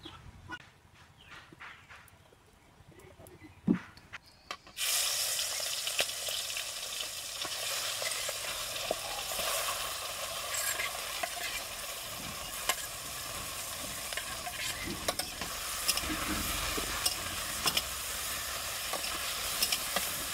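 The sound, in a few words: prawns frying in mustard oil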